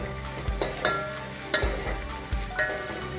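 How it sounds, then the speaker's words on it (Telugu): Cumin, mustard seeds, chopped onion and cashews sizzle in hot oil in a pan, a steady close fry broken by a few stirring knocks of a spoon, with no talking. "వీటిని కాసేపు వేగనివ్వాలి"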